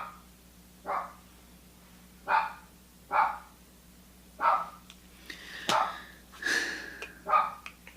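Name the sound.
dog barking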